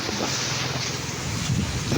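Strong typhoon wind roars and buffets the microphone in a constant loud rush, with a low rumbling undertone and no voices.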